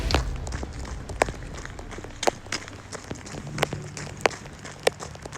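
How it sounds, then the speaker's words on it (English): Steady heavy rain hisses throughout while footsteps slap at a running pace, with sharp irregular impacts on a wet surface close by; no talking. "Also the rain is still going, so I'm cold again because huge rain is back."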